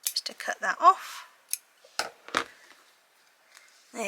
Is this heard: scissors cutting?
yes